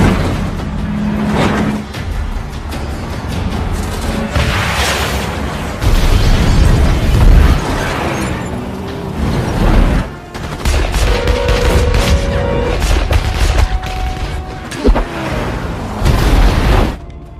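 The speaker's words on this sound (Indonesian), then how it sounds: "Baku tembak pun tak terhindarkan antara para preman dan kru Samson." Gunfire and explosions from a film shootout between thugs and a crew, loud and continuous, with dense bursts of shots and heavy booms rolling through the whole stretch.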